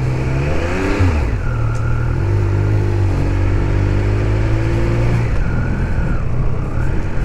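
A 2021 Triumph Speed Triple RS motorcycle is ridden hard, its engine droning loud and close with rising revs and gear changes shifting the pitch, wind noise underneath.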